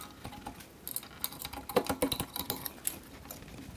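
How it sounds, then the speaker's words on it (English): Screwdriver prying a rear brake caliper off a 2008 Suzuki SX4, heard as a close series of irregular metallic scrapes, clicks and taps that cluster in the middle and fade toward the end, with no talking. "now I need a screwdriver to pry this up"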